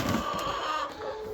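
Chickens clucking nearby, a continuous low chatter of fowl with a thin tonal whine running underneath.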